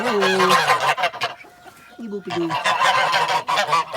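A goose honks loudly and repeatedly close by, in harsh bursts with a short lull midway, near two young goslings in a backyard flock.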